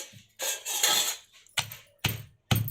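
Chicken pieces pounded in a stone mortar for a roti pachadi chutney, a quick run of heavy thuds followed by three separate, sharp pestle strikes spaced about half a second apart, close and clear with no talking.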